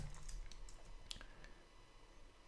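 Someone types on a computer keyboard in short, uneven bursts of light clicks, close and soft, with no talking.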